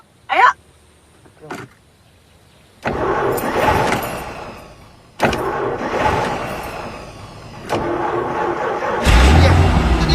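A car starts up and pulls away, its engine rising in bursts after a door thud and brief silence, with passengers talking inside the cabin over the idling and accelerating motor.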